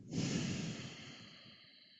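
Breath pushed out through the nose during a guided earth meditation: one soft, airy exhale that swells early and slowly fades over a couple of seconds, close and alone with no voice.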